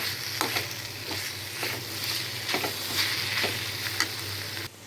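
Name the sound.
dried fish and tomatoes being sautéed in a pan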